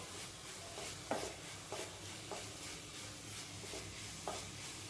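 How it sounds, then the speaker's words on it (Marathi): Spoon working jaggery modak filling in a pan, a soft continuous sizzle with quiet scraping strokes roughly every half second, close and faint, no talk. "आता हे सर्व एक जीव असं करून घ्यायचे मिक्स करून घ्यायचे"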